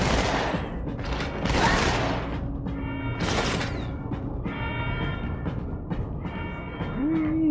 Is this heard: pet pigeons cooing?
no